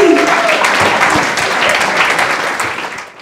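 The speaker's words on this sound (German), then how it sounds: "Einen Applaus bitte für die heiße Mascherie!" Loud, dense audience applause in a hall during the midnight show at a farmers' ball, continuous clapping throughout that fades slightly at the end, with no voices on top.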